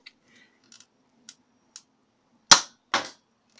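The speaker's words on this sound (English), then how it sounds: "2 shots with the barrel off, and then 2 with it on." A modded Nerf Sharpfire blaster firing two sharp, loud snapping shots about half a second apart, preceded by a few faint clicks of handling in an otherwise quiet room.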